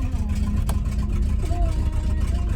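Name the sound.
1974 GMC C10 truck engine running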